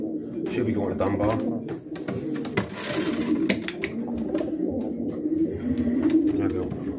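Pigeons coo steadily, at close range, in a loft of widowhood racing hens. People talk over the cooing at times.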